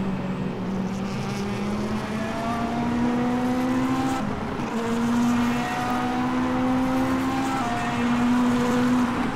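Race cars in a sim racing video game, several engines droning steadily with rising tonal whines as they accelerate through gears, loud and continuous with no talk.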